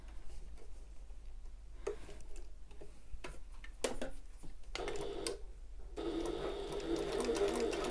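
A sewing machine stitches across a fabric shoulder bag with a ring attached, a close rapid mechanical ticking that starts and stops in short runs, then settles into a steadier, louder whir near the end.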